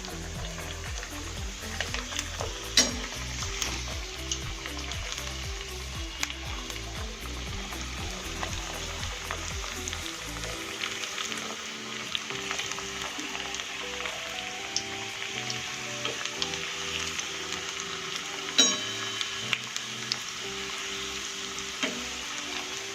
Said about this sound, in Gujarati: હવે આને આપણે ડીપ ફ્રાય કરી લઈશું ધીમા તાપે.